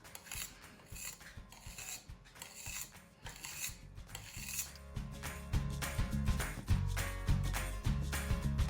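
A knife slits ghee-coated lachha paratha dough into thin strips on a board, making repeated rasping, scraping strokes in a rhythmic series that grows heavier and thumpier toward the end.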